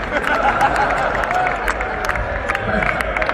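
A comedy club audience cheers and claps in a dense, steady roar with excited shouts throughout, close and loud with no pauses.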